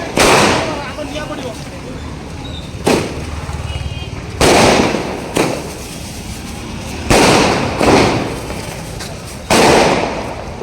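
Diwali fireworks in Bangalore burst both below and overhead, with a series of sharp loud cracks and booms at irregular intervals, some close and some farther off, with crackling between them and a voice talking in the background.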